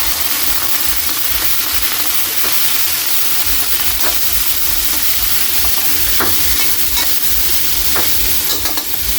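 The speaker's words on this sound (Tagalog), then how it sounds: "Kaili, ilagay na natin yung pork. Para magigisa na natin." Pork sautéing in a hot pan makes a loud, continuous sizzle and hiss with occasional crackles, steady throughout and with no voices.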